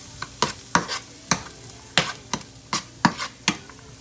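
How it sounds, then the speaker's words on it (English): Seasoned food is stirred in a pot over medium-high heat. A spoon scrapes and clicks against the pot in an even rhythm of about ten close, crisp strokes over a faint background sizzle. "And then we're just going to season this, stir it up. We'll put it on medium-high heat."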